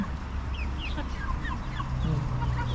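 Small backyard chickens cluck close by in a quick run of short, chirpy calls over a steady outdoor background.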